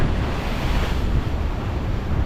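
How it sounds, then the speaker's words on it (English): Ocean waves crash and wash over shoreline rocks at a rock fishing spot, forming a loud, continuous roar mixed with wind buffeting the microphone. "Keep an eye on the waves at all times."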